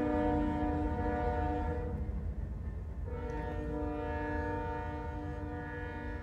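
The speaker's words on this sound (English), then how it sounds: "the train's going by." A train rumbles past with a steady, loud drone and sustained horn-like tones, the noise dipping briefly before swelling again.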